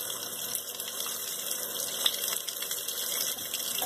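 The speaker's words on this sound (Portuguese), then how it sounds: "Então eu vou colocar mais um pouquinho de água" Water gushes steadily into a Consul Maré super CWL10 washing machine, a continuous rushing fill heard close up with no talking.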